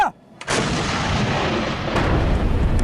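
A cannon fires a shell at a target in a drama scene: one sudden, very loud blast followed by a long, heavy rumbling roar that fills the rest of the moment.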